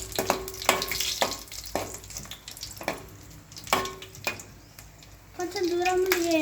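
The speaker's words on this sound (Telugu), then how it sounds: "ఎండుమిర్చి వేయించాలి. ఫ్రై చేసుకోవాలి ఫ్రెండ్స్. ఎండుమిర్చి చిల్లుతుంది ఫ్రెండ్స్" Dried red chillies fry and splutter in hot oil for gongura sesame chutney, a close, crackling sizzle broken by sharp pops and stirring knocks, with a steadier hiss building near the end.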